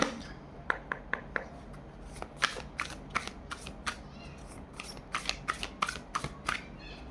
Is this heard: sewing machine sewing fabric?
no